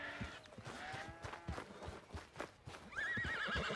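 A horse in the Red Dead Redemption 2 video game whinnies in a long wavering call near the end, after a run of clip-clopping hooves close by, with no talk over it.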